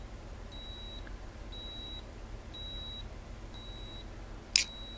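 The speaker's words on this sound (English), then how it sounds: "You can hear it going off every time there's a pulse." Dr Clark Magzapper magnetic pulser giving a short high electronic beep with each pulse, four faint evenly spaced beeps about one second apart over quiet room hiss, followed by a brief click.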